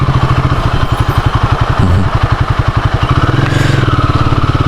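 A motorcycle rides along a small narrow road, its engine chugging in a close, steady rapid pulse, with a brief rev midway and a slight shift in tone near the end.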